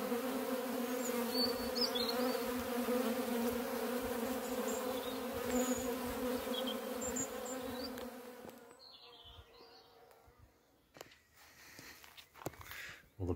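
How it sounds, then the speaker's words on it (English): Steady, dense insect buzzing from many bees, loud and close for most of the clip, then thinning out and fading near the end with a few soft knocks. "Well, the bees have found it."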